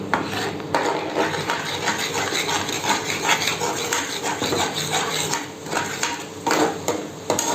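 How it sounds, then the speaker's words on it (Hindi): A spoon stirs and scrapes ingredients in a pan for white sauce pasta, making a close, loud, continuous rasping and clinking of metal against the pan with no pauses. "अब मैं इसको एक बार मिक्स करूंगी।"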